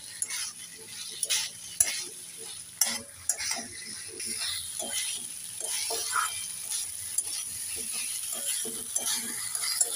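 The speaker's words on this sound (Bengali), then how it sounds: "একটু নেড়ে ছেড়ে দিয়ে দেবো।" A spoon scrapes and knocks against a pan while stirring aloo posto, Bengali potatoes with poppy seed and a little sugar; the taps are irregular and fairly quiet, with a light sizzle underneath.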